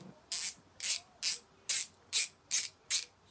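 GearWrench Rotor fine-tooth hand ratchet clicking through seven evenly spaced bursts of fast, fine ratcheting, each about a quarter second long, close and clear with silence between.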